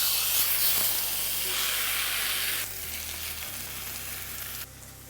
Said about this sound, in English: we're just gonna sear these off in a nice cast iron brazier from Tramontina